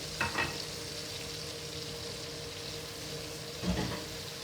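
Yam slices fry in a pan with a low, even sizzle, faint and steady, with two brief clatters of a utensil at the start and near the end.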